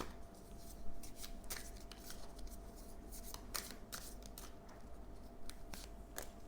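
Oracle cards shuffled by hand, producing close, continuous papery riffling and flicking with sharper snaps scattered throughout, over a low background hum.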